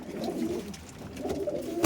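Racing pigeons from a flying-pigeon loft coo in low, murmuring rolls, two soft bursts close by with a brief scrape or flutter at the end.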